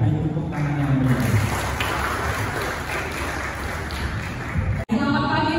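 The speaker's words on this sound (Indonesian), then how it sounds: "Beri tepuk tangan yang meriah." Sustained applause from an audience welcoming the moderator at a morning gathering in Indonesia, dense and steady throughout with voices mixed in.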